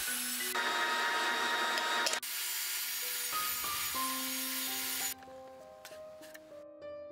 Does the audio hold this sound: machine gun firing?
no